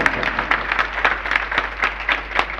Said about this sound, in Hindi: जोरदार तालियां बजा करके अनुमोदना करें।